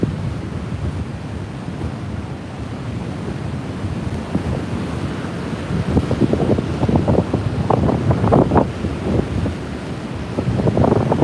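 Ocean surf pounding a beach at Hastings Point during a low-pressure system with damaging winds, a continuous roar of breaking waves under heavy wind buffeting the microphone, loud and steady with surges toward the end.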